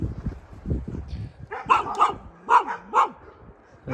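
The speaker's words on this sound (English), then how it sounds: "So we found some neighborhood dogs." Neighborhood dogs bark on a cul-de-sac beside a trail on BLM land, giving a run of about five or six loud, clear barks that rise and fall, following quieter rustling and movement.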